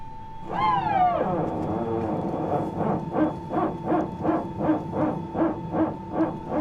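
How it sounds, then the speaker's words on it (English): An Airbus A320neo power transfer unit in Microsoft Flight Simulator barks in a steady, evenly spaced series of about a dozen deep pulses, preceded by a falling whine as it starts, loud and close over a constant hum. "God, I love that PTU sound."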